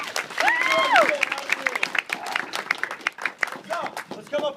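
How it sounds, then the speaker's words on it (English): A comedy panel audience bursts into steady, dense applause just after a voice speaks, the clapping staying fairly close and continuing beneath brief talk. "Elaine, give her a round of applause."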